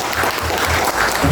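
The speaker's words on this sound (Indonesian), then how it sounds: "Tepuk tangan buat kita semua." An audience at a campus talk show on earthquake mitigation applauds, a loud, dense burst of clapping lasting only a moment, with a low rumble of the room underneath.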